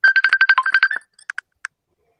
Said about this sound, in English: It's an old ringer.